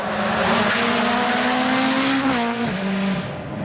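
A rally car on tarmac at the Rallye de France, engine loud and close, holding a steady pitch before dipping through a gear change and settling lower, with no talk.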